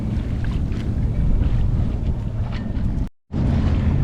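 A sailboat under way off the Maine coast near Little Cranberry Island, with steady rushing wind and water noise close to the microphone, broken by a brief dropout near the end.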